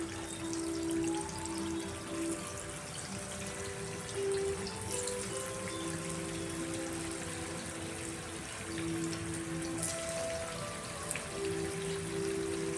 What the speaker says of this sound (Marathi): गॅस मध्यम आचेवरती ठेवायचा आणि बॉल्स तळून घ्यायचे।